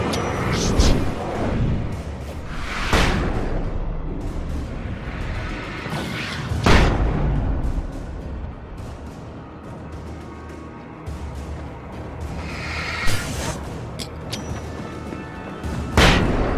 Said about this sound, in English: I think I heard some gunshots